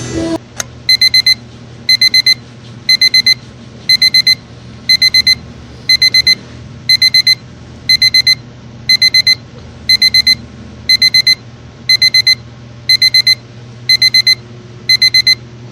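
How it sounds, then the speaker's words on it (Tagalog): An alarm clock rings in a room just after waking, sounding about fifteen evenly spaced bursts of rapid high beeps, one roughly every second, loud and close over a low steady hum, with no talking. "at ako'y nagising na sa aking alarm"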